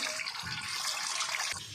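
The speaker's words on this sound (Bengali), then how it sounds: "এই তো জল ভরে নিলাম" Tap water gushes into a metal wok in a steady, close, moderately quiet stream with a hollow splashing rush throughout, and no voices.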